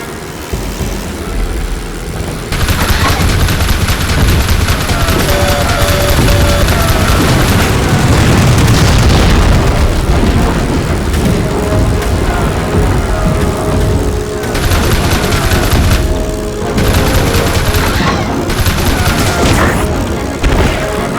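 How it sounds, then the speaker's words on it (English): Aircraft rocket strikes on enemy ships in the Heroes of the Pacific combat game, a dense, loud stretch of booming explosions and rumbling engine drone that swells and pulses repeatedly, with brief lulls between bursts. "Commence rocket attack"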